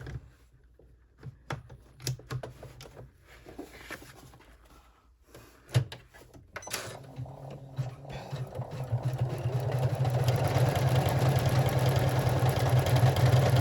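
Sewing machine top stitching a bag with a credit card slot add-on, starting with a few clicks and knocks, then running into a steady close mechanical whir that grows louder and holds to the end.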